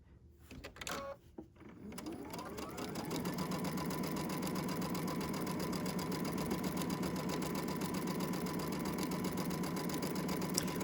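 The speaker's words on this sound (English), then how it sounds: "we will sew up the bottom." A sewing machine stitches up the bottom of a handmade gift bag, running in one steady continuous whir after a few brief starts and handling sounds at the beginning, close and fairly loud.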